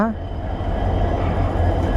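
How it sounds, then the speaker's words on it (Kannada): A train engine passes a railway crossing with a steady, close, heavy low rumble that holds for the full two seconds without easing off. "ಇದಿನ್ನೂ ಇಂಜಿನ್ ಹೋಯ್ತೈತೆ ಆಯ್ತಾಯ್ತು ಇಂಜಿನ್ ಹೋಯ್ತೈತೆ"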